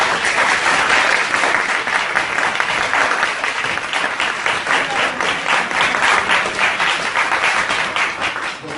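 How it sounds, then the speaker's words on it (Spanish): A lecture audience applauds loudly to welcome a psychologist giving a counseling talk, a dense, steady wash of clapping that keeps going with no let-up across the whole stretch. "Lo recibimos con un fuerte aplauso."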